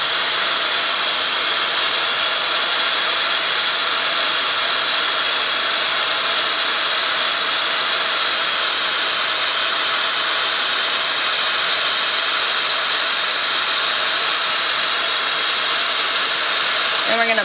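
A Dyson Airwrap hair styler blows cool air in a steady, loud, continuous broadband whoosh with a high whine, running unbroken throughout.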